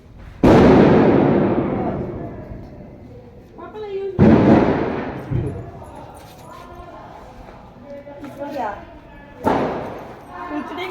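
Firecrackers and bombs bursting, three loud sharp blasts spaced a few seconds apart, each trailing off with crackling and rumble, with voices talking in between.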